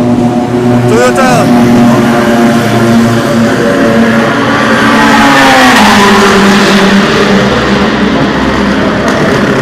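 A Toyota race car at the Le Mans 24 Hours test day roars past close by, its engine note rising and sweeping in pitch, with a second engine and crowd noise filling the loud background; someone talks over it.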